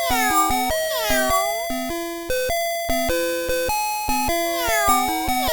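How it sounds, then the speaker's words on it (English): A Playskool Magic Screen learning desk toy plays electronic cat meows, a quick string of repeated synthetic mews with bending pitch, loud and close in a steady rhythm, with no other sound. "Meow, meow."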